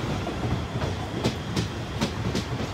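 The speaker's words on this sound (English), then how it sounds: "we actually have another South Western Railway train coming in as well" A South Western Railway Class 450 electric unit, 450.062 leading five coaches, pulls into Fratton station, its wheels giving a rhythmic clickety-clack over rail joints, a few sharp clacks standing out above a steady rumble.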